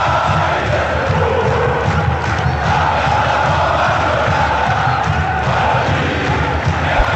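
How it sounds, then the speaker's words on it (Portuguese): Guarani football fans cheering in a stadium during a Série B match against Chapecoense, a loud, dense, unbroken crowd roar that holds steady throughout. "É a torcida bugrina, feliz da vida"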